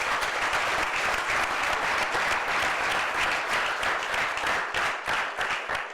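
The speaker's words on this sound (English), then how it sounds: "Let's give up one more round of applause for Joe." Audience applause for former NFL lineman Joe DeLamielleure, a Pro Football Hall of Famer, fills the room in a dense, steady roar of many clapping hands that stays loud throughout and thins slightly near the end.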